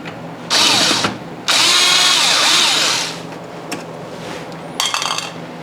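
A power tool spins out the mounting bolts of a Cameo espresso machine's steam wand in two loud bursts, a short one then a longer whine, followed by faint metallic clinks and a brief final rattle.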